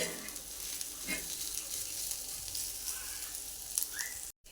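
Green chillies fry and get stirred in oil over a low gas flame, giving a steady close sizzle with occasional scraping stirs that continues throughout before cutting out abruptly at the end.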